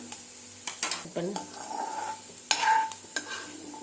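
Grated coconut being stirred in ghee in a pan, with short scraping strokes and a soft sizzle, close and fairly quiet, with a few utensil clinks.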